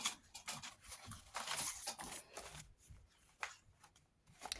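Quiet rustling and shuffling of paper pages, in irregular short bursts with brief pauses between them.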